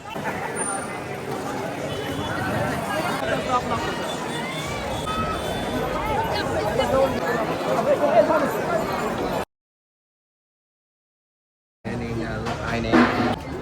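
A dense crowd of pilgrims packs a temple in Pandharpur, filling the air with steady, close hubbub and overlapping chatter that runs continuously, breaks off into brief silence, then resumes.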